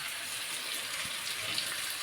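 Remaining water is poured into a spiced goat head curry before it goes into a pressure cooker, a steady, close, hissing gush that continues without pause and without any talk.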